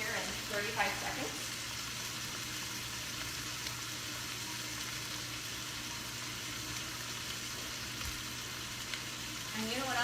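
Food frying in a pan for a lasagna casserole gives a steady, moderate sizzle throughout, with brief scraping stir sounds near the start and end and no talk over it.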